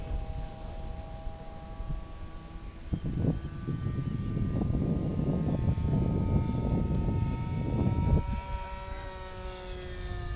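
An AT-6 propeller airplane flies over an airfield during a holiday flying event, its engine droning as it approaches and swells louder, then fades with a smooth rising and falling pitch and some wind buffeting.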